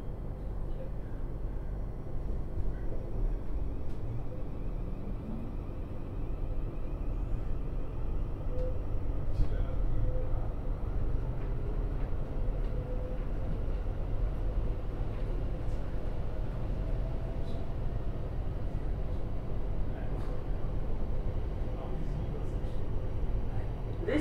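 Interior rumble of a passenger train running from Shepperton toward London Waterloo, a steady low drone with faint rail clicks and wind noise throughout, no talk.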